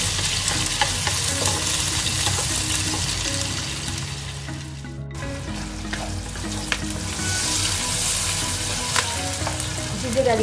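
Curry leaves fry in hot oil for tofu sambal, giving a steady loud sizzle and crackle with brief stirring, heard alone without talk.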